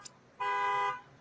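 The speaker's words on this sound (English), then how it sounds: "The windows are open because it's hot, and there's a car alarm going." A car alarm or horn goes off outside beyond open windows on a hot afternoon, a single sustained harmonic tone lasting about half a second after a brief click, heard moderately loud through the room.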